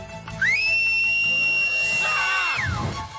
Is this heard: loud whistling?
yes